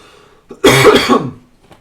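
A single harsh cough, loud and close, bursting out after a brief quiet moment and trailing off with a throaty rasp.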